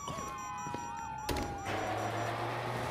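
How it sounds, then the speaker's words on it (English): Police sirens in the video game GTA 5 wail in a sliding tone through the whole stretch, joined midway by a sharp bang and a low engine drone. "you hear that? Sirens."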